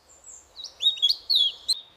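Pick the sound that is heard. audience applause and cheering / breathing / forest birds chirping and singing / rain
forest birds chirping and singing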